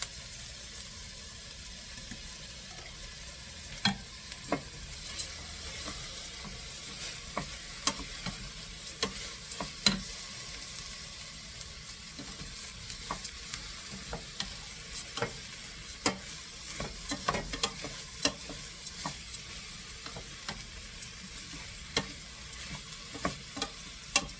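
Rice is stirred in a pan for risotto, with a soft sizzle underneath and many small scraping clicks from the spoon scattered irregularly throughout, all fairly quiet.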